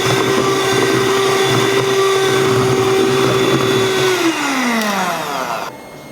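An electric mixer beats French buttercream at room temperature, keeping a loud, steady whine that slows and drops in pitch near the end as it winds down, with no talking.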